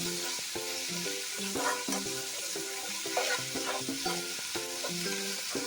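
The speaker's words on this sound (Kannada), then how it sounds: "ಚೆನ್ನಾಗಿ ಫ್ರೈ ಮಾಡ್ಕೊಳ್ಳೋಣ." Chicken liver fries in a pan with ginger-garlic paste, a steady close sizzle that runs throughout, broken by frequent scraping and stirring clatters of a utensil against the pan.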